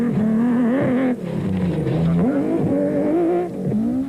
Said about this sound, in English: the Nissan hardbody off-road truck of Hannes Grobler and Richard Lee.